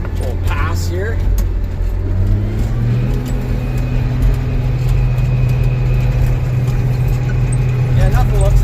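Bulldozer engine running with a steady low drone and shifting pitch as the dozer pushes along, loud and continuous, with a voice talking over it.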